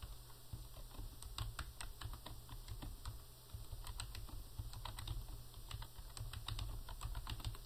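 Rapid, uneven keystrokes on a computer keyboard, entering a check memo, clicking steadily and close up over a constant electronic hum with no talking.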